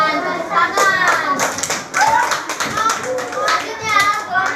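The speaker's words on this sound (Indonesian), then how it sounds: "Tepuk tangan." Primary schoolchildren in a classroom clap their hands together in a loud, rhythmic burst of applause, close by, with children's voices mixed in.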